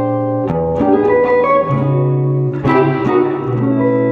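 Electric guitar with a warm, mellow jazz tone, playing a short chordal phrase with a couple of strummed accents and light reverb.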